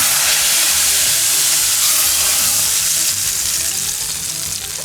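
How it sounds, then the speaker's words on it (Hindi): Loud, steady sizzling of chillies and curry leaves frying in hot oil as a tempering for dal, a dense crackling hiss that continues throughout without any voices. "अब इस टाइम पर मैं इसमें ये मिर्चें और कड़ी पत्ता डाल दूँगी।"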